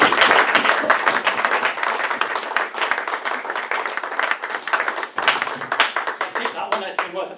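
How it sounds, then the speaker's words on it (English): An audience claps and cheers for Holly, a dense, continuous wash of applause that stays loud throughout, with voices mixed in. "Give Holly a big round of applause."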